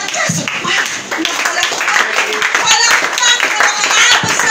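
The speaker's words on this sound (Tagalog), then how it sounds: "Palakpak na nagaling sa puso mo. Kahit hindi ka marunong tumugtog, patugtugin mo ang kamay mo sa pamagitan ng palakpak." A church congregation clapping hands in praise, dense continuous clapping close by with a voice speaking over it.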